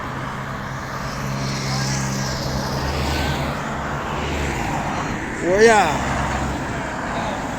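Road traffic streams past in Porriño, Galicia, during a cycling stage race, a dense continuous wash of car noise with one vehicle swooshing close by near the end, while a man calls out over it.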